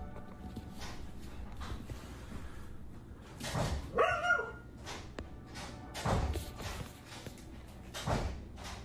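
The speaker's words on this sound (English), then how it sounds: "alarming their dog, who's barking at the threat violently" A dog barking in a house, several loud, separate barks spaced a couple of seconds apart over a low steady background hum.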